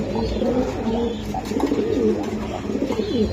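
Racing pigeons coo in soft, low, repeated rolling calls, several birds overlapping close by in a steady burbling chorus with no speech.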